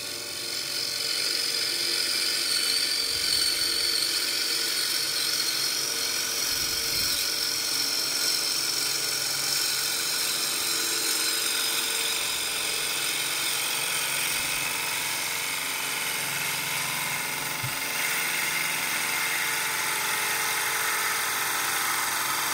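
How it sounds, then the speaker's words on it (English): A bowl gouge cuts a spinning wood-and-crayon bowl on a lathe, giving a continuous high whirring scrape that holds steady and close throughout, with no talking. "Now I can go with the bowl gouge."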